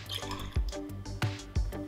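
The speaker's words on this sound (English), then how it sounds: "Add 1 ounce of lemon juice." Lemon juice poured into a bourbon cocktail gives a few close, wet drips and splashes in quick succession, with small liquid plops standing out clearly against a quiet room.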